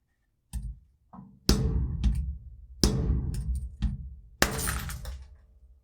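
Glass tube holding a sodium-mercury amalgam being smashed, four or five sharp cracking, shattering blows spaced about a second apart, close and loud, with tinkling debris after each hit.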